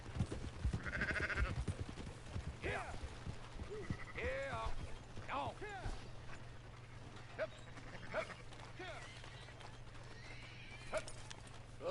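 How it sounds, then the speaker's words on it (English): Sheep bleating in the Red Dead video game, several short wavering calls scattered among clip-clopping horse hooves and a low hum, with voices talking faintly. "Fine sheep."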